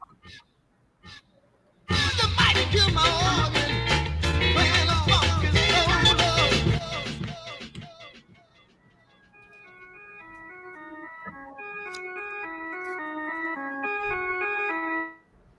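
An electronic song plays: a dense, loud synth-heavy passage with a steady pulsing beat, then it thins to a quieter, sparse melodic synth line with bright tones, heard without talking.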